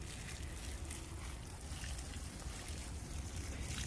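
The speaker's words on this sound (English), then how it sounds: "then we just water them in, going around the garden" Water poured from a filled container onto garden soil to drench in beneficial nematodes, a faint, steady splashing trickle that runs continuously with no talking.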